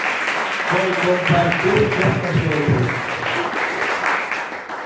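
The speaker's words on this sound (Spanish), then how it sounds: "Un aplauso" Broadband clapping from a crowd runs throughout, steady and fairly loud, with a voice speaking over the applause.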